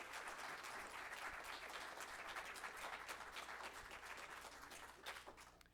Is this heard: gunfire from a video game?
no